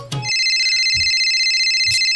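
A mobile phone ringtone rings loud and close, a sustained electronic tone that starts after a brief noise and plays steadily to the end, alone without talk.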